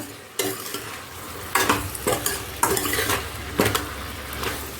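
Spoon stirring and mixing salted vegetables in a pan over low flame, several distinct scraping strokes against the metal over a soft steady sizzle, no voices.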